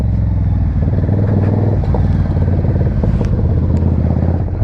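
Suzuki Marauder bobber motorcycle engine running steadily while riding, a loud, continuous low throbbing rumble with slight rises in revs and wind buffeting, close and alone without talk.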